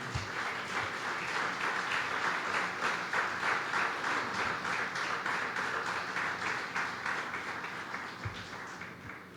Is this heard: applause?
yes